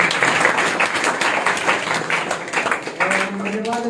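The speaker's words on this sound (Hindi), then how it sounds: "हम सब ताली बजाकर" An audience at a Christmas program in Prayagraj claps to welcome a pastor, a steady, full patter of many hands close by, with a voice speaking over it as the applause continues.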